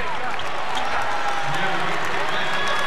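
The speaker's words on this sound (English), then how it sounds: "A nice hand from the crowd for Pritchard as he leaves" A basketball crowd in an arena applauds as player Pritchard leaves the court during Indiana versus Bryant: a dense, steady wash of clapping and crowd noise under an announcer's voice throughout.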